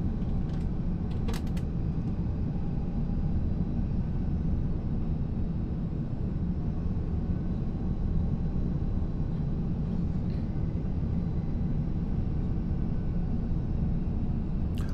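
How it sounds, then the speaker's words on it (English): Inside the cabin of an SAS Airbus A330-300 on final approach to Oslo, a steady, even roar of engine and airflow noise drones on without a break. "we are on our final approach to Oslo, breaking through the clouds"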